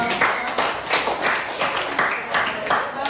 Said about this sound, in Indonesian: sudah tepuk tangan untuk kawannya sudah.